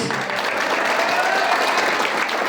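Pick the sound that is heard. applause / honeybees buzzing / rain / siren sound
applause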